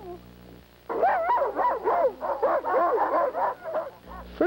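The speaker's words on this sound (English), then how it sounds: "We must run the dogs every day." Sled dogs bark and yip in an excited, continuous chorus close by before a run, with overlapping high yelps and whines rising and falling for several seconds after a quieter start.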